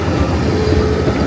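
A theme park train rolling along its track near a wooden coaster, a steady close rumble of wheels and cars with no voices.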